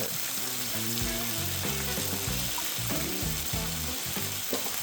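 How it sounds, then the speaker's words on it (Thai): Glass noodles stir-fried in a bubbling sauce over medium heat make a dense, continuous sizzle with occasional stirring, under steady background music. "ผัดให้เข้ากัน เส้นจะดูดน้ำซอสฉ่ำๆเลยค่ะ"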